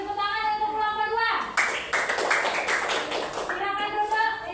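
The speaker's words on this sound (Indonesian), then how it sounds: "baru tepuk tangan untuk kelompok 2" Schoolchildren in a classroom applaud a student group, and a burst of lively clapping follows a short stretch of talking, lasting a couple of seconds before fading.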